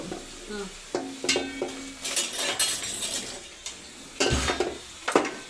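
Chicken pieces dropped into a hot pan for Andhra-style biryani, with clattering of utensils and pots, stirring scrapes and a frying sizzle in short bursts, close and fairly loud.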